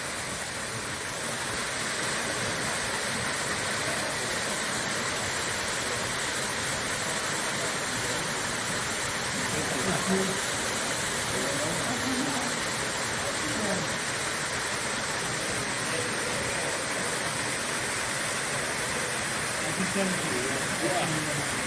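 Darwin Falls, a year-round waterfall in the Death Valley desert, makes a steady broadband rush of falling water that holds unchanged throughout at moderate, fairly close level, with no clear voices over it.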